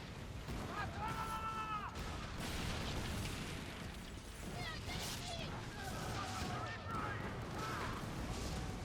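Distant booming cannon shots and bursts from ships in the video game Skull and Bones, mixed into a busy, noisy game soundscape, with chirping effects and background clatter throughout.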